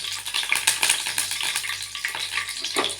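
Cumin and mustard seeds fry in hot oil in a pan, giving a dense, steady crackling sizzle with scattered sharp pops throughout, close and fairly loud, with no voices.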